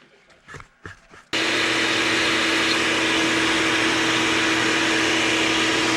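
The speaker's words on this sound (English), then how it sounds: "As I'm scraping it, I suck around it with the vacuum to pull those gaskets" A vacuum cleaner runs at a steady, loud whine beside an ATV engine as old gasket material is scraped off, starting abruptly after a few faint knocks and holding constant to the end.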